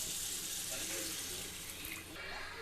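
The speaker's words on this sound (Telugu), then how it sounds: "కొన్ని వాటర్ పోసేసుకుందాం" Water pours steadily into a pot of mutton liver soya curry, a soft continuous splashing rush with no break.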